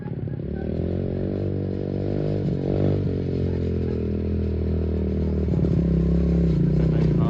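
A motorcycle engine runs steadily close by, a loud continuous droning rumble with slight rises in pitch, while someone talks over it.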